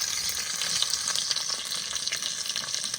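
Nigella seeds, garlic, and green and dried chillies sputter in hot oil, making a loud, dense, continuous crackling sizzle up close with no voices.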